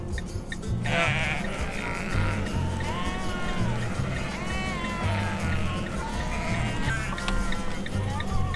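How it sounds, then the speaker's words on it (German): A flock of sheep in South America bleats repeatedly, overlapping calls near and far, over a constant rustling bed of movement and background noise. "Ein Meer aus Schafen."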